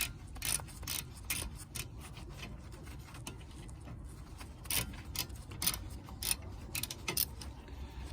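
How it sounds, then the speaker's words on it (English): Ratcheting clicks from a socket wrench loosening a brake cable nut on a 2015 Honda Accord during rear brake work, a quiet irregular series of close mechanical ticks with no talk. "this brake cable was in the way, so I got the nut loose"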